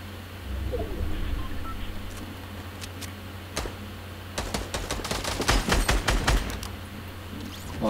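Light machine gun fire in the Fortnite video game, heard as sporadic single shots building into rapid bursts of several rounds, moderately loud over a low background hum.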